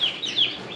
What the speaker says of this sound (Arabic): كتكوت اللي قدامكم كتكوت ايفيان من شركة بلادي